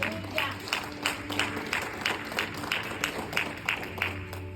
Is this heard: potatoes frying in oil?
no